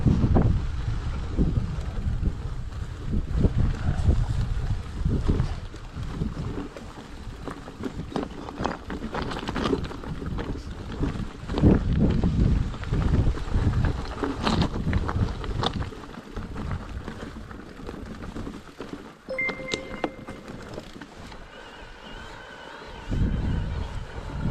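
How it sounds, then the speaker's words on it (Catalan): Strong wind on a mountain top buffets hard and unevenly, with loud gusting rumbles that swell and ease over about twenty-five seconds and faint scattered outdoor clatter beneath. "aquí dalt fa molt de vent"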